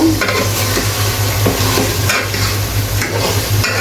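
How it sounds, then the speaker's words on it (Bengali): Spiced beef for a Bangladeshi-style Eid curry sizzles hard in a hot pan as it is stirred. Close, continuous frying hiss is broken by repeated scraping strokes of the stirring spoon, and no one speaks. "এখন আমি মাংসগুলোকে খুবই ভালো করে আমি এখন মাংসগুলোকে নেড়ে দিব"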